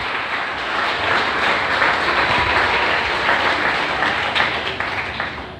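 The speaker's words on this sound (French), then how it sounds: "Est-ce qu'on voulait pas applaudir la fidélité de Dieu?" A church congregation at an evangelical church in Haiti applauds in a dense, steady wash of clapping that holds loud and unbroken for several seconds before easing slightly at the end.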